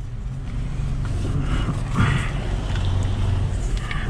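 A 1990 Toyota HiAce Wagon Super Custom drives along with a steady low engine drone and road rumble from inside the cabin, swelling briefly midway.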